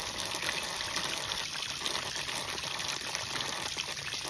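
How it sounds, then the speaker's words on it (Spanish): Water gushes steadily from an open outdoor tap out in the countryside, a continuous broadband rush and splash, fairly close, with no speech. "vamos a abrir el grifo. ¿Sí ven? Vamos a abrir mucha agua."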